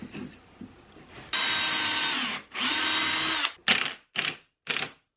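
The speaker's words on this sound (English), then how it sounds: "I pre-drill and then put those screws in" Cordless power drill pre-drilling holes and driving screws into a wooden jig saw French cleat shelf, two long whirring runs followed by three short bursts, close and clear with no talking.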